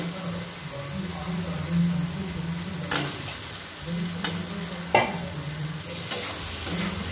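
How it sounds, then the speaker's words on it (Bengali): Pre-fried potatoes stirred and fried with masala spices in a pan for an egg masala curry, giving a steady close sizzle broken by several short scraping stirs. "ভাজা আলুগুলো মশলার সাথে ভালো মতো কষিয়ে নিলাম।"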